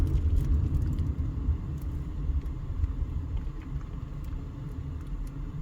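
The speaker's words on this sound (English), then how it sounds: "we'll wait for the traffic here" Steady road traffic rumbles past at a southwest Las Vegas intersection near Warm Springs Road, a continuous low roar of car engines and tires with faint higher ticks over it.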